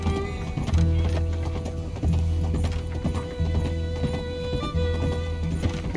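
Horse hooves clip-clopping at a gallop in the video game Red Dead Redemption 2, steady close rhythmic beats with occasional whinnies over a continuous low game music bed.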